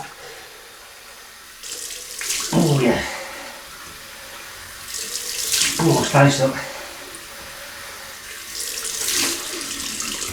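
Cold tap water runs into a bathroom sink during a wet shave, in three separate splashing bursts, each swelling and fading. Someone speaks briefly between them.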